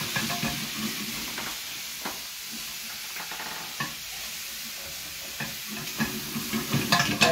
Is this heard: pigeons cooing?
no